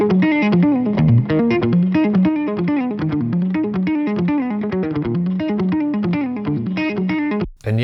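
A mixed electric guitar part through a Matchless-style amp with a compressor in front, a simple cab and light reverb, playing a busy picked melodic line of crisp, slightly driven notes, with a brief dropout near the end.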